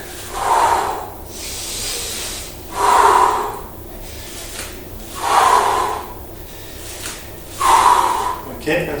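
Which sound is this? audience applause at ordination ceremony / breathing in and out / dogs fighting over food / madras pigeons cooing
breathing in and out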